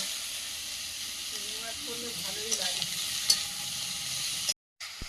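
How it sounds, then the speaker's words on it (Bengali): Prawns sizzling and being stirred in a radish curry, a steady close hiss of frying with faint scraping movements, ending in a brief cut to silence. "তরকারি ভালো হচ্ছে কারণ চিংড়ি মাছ পড়ছে তো"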